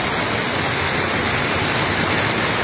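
Floodwater on a road, risen up to the gutter, rushes in a loud, steady, close roar of turbulent water.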